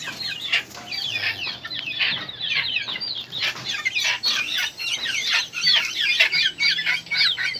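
Several chickens cluck and chatter continuously in a small coop, close by, with overlapping calls and a few sharper squawks.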